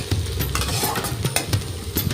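Onion being stirred and fried in oil in a pan for a Bengali begun bahar, a steady close sizzle with repeated scraping stir strokes and occasional utensil clinks.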